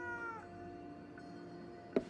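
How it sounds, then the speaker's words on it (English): Cats in the video game Ghostwire: Tokyo: one drawn-out, tonal meow opens the clip quietly, then a sharp soft thump lands near the end over a faint hum. "It's a lot of fucking cats, dude."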